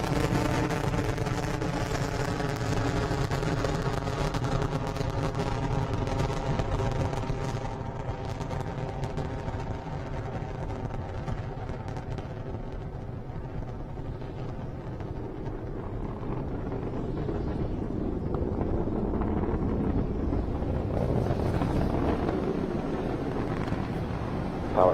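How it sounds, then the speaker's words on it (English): A SpaceX Falcon 9 rocket climbing away after clearing the tower, a sustained distant rumbling roar with broadband crackle that holds steady and slowly fades and shifts, buffeted by wind on the microphone. "Falcon 9 is clear the tower"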